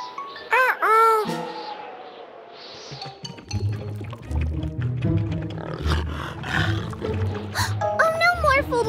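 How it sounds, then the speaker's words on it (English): A cartoon tiger roars in a short, loud burst, followed by a rumbling, busy stretch of animated action sounds and further voices calling out. "The tiger is in trouble!"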